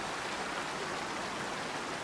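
Loud running water rushes in the hunting game Way of the Hunter, a constant broadband stream or waterfall hiss. It holds steady throughout, with no voices.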